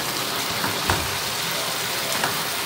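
Fried chicken pieces are stirred and tossed in a hot pan with vegetables, giving a continuous sizzle broken by a few soft scraping clatters.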